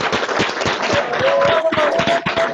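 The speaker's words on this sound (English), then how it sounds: "let's give class of 2010 inductee, Gold Jacket, Mr. Floyd Little, one last round of applause." Audience applause at a Pro Football Hall of Fame event honoring a class of 2010 inductee, dense steady clapping throughout with a faint whistle or cheer above it.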